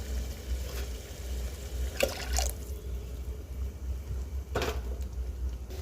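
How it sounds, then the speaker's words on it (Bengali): Water poured into a mixer grinder jar holding tomatoes in a home kitchen, heard as a few brief splashing pours against a low steady background hum. "আর একটু জল দিতে হবে।"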